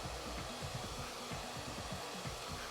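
A wet and dry extraction machine vacuums a car's carpet during detailing, a loud, steady motor roar with a rough, pulsing suction note running unbroken throughout, no voices.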